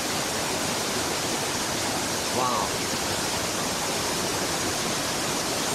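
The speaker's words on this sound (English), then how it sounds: "approaching the waterfall" Steady broadband roar of a waterfall at XiaoWulai in Taoyuan, Taiwan, constant and enveloping with a brief exclaimed voice in the middle.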